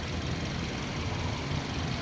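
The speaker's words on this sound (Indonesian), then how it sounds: "Iramanya masih standar, irama mesin." A 2014 Suzuki Ertiga GL manual idles steadily at close range, a low, even engine hum with a faint regular pulse and nothing else over it.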